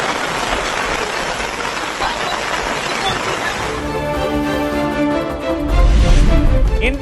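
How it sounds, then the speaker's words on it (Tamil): Heavy monsoon rain pouring down in Mumbai during flooding, a dense continuous hiss of rainfall that grows louder and deeper toward the end, with no talking. "மும்பையில் தொடர் கனமழையால் பல்வேறு இடங்களில் தேங்கியுள்ள வெள்ளம்."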